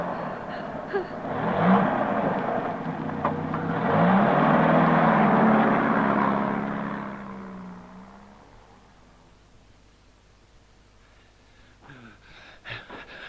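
Car engine running with the choke pulled right out in a radio drama, a rough rising roar and whir that swells, holds, then fades, followed by faint clicks.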